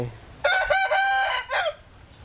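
A Thai fighting rooster crows once near and loud outdoors, a strained, wavering cock-a-doodle-doo lasting just over a second that ends in a short hoarse tail.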